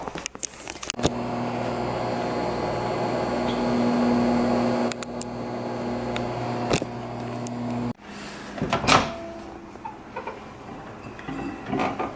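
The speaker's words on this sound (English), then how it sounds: "So I'm going to pop it in the microwave for 1 minute and it'll be done." A microwave oven heating an egg for one minute hums steadily with a low electrical drone and fan noise, then stops and gives way to faint clatter and handling sounds nearby.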